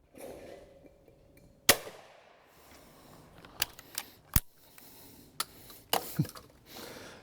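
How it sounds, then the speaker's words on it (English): Shotgun blasts at rabbit clay targets on a beginner clay shooting range, heard as about half a dozen sharp, dry cracks at uneven intervals over a quiet background. "now there you've just seen me shooting what we call a rabbit target"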